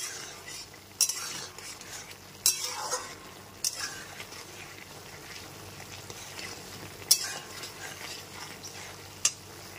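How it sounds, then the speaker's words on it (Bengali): A spoon stirs salt and turmeric powder into sliced ridge gourd in a pan, with several sharp metal scrapes and clinks against the pan spaced irregularly over a faint, quiet background. "হলুদের গুঁড়ো আর নুনটা খুব ভালো করে মিশিয়ে নিচ্ছি।"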